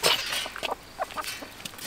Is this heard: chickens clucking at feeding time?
yes